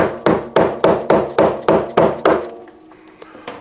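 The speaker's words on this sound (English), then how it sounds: "I'm going to have to use a hammer" Eight sharp hammer blows in an even, steady rhythm, close and loud, knocking a tight part inward on a Bosch Classixx washing machine, then stopping with a few faint taps after.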